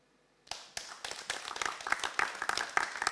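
An audience claps for a slam poet after his performance, beginning abruptly from silence, then building into quick, uneven individual claps that sound fairly close and moderately loud.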